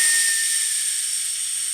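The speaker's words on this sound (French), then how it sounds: "le sifflet est un énorme consommateur, ou en tout cas un futur énorme consommateur, mais il a un son fort grave" A live-steam Saito engine set up for an RC paddle boat, running at close to 2 bar, lets out a short, close, steady hissing steam whistle that fades slightly over under two seconds.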